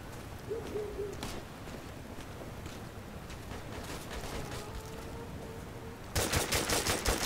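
Video game gunfire in Operation Flashpoint, with distant sporadic shots through a soft outdoor ambience and a brief owl-like hoot, then a loud, rapid burst of automatic fire near the end.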